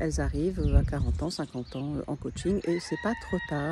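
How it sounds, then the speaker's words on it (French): A rooster crows somewhere outdoors, heard faintly behind a person speaking continuously in French close to the microphone. "Il y a le coq qui chante"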